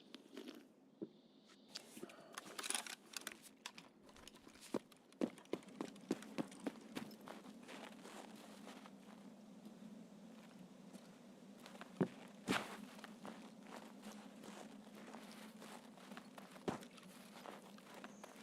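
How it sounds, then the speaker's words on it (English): Footsteps in a woods map of a tactical shooter game, a faint irregular patter of steps on rough ground over a low steady background hum. "I heard footsteps and I'm pretty sure they were"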